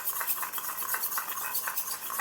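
Sour yogurt whisked with ground spices in a bowl while preparing a vegetarian bora recipe, heard as close, quick, rhythmic scraping and clicking strokes.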